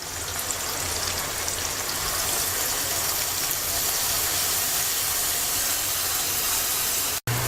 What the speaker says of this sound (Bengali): এবার মশলাটাকে কিছুক্ষণ কষিয়ে নেব।